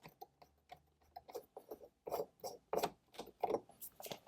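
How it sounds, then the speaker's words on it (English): Quiet, close-up scraping and small clicking twists as a key bezel is unscrewed from a Porsche 964/993 ignition switch, in short irregular bursts. "You unscrew this."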